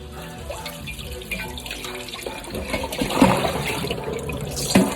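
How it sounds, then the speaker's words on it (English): A kitchen tap runs water over already-cleaned vegetables for a final rinse, with a steady close rush of water and splashing that grows louder as the produce is moved under the stream. "I like to run the water one more time, make sure everything is nice and clean."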